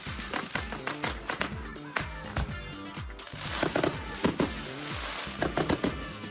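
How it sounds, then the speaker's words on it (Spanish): Fireworks display over a beach at a 40th birthday celebration: a rapid, irregular series of sharp cracks and pops, dense and moderately loud, with bursts clustering throughout and no pause. "fuegos artificiales."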